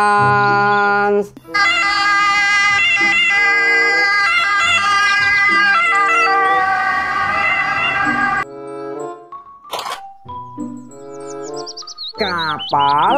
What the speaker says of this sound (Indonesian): ambulans.